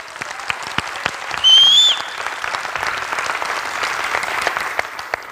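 Scattered audience clapping in a hall during a business presentation, individual claps sharp and uneven, with a brief electronic whine partway through and a faint voice underneath.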